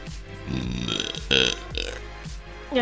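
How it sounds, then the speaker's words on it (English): A woman's loud, drawn-out burp rises over background noise, followed by a second short eructation near the end, with some faint voices around it. "Good burp."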